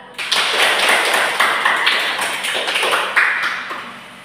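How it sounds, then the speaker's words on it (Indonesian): A group of high school students in a career counseling class claps for a classmate, a dense burst of applause lasting about four seconds with a few louder individual claps standing out. "kita memberikan tepuk tangan untuk Adik Paula"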